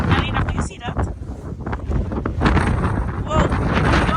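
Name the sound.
strong wind in a snow storm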